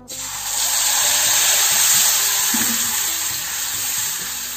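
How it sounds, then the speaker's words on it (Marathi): Chutney tempering crackles and sizzles steadily in hot oil in a kadhai, a loud, close, continuous hiss with small pops, without speech. "तेल आपलं गरम झालंय आता त्यामध्ये आपण चटणीला फोडणी देऊन घेऊया"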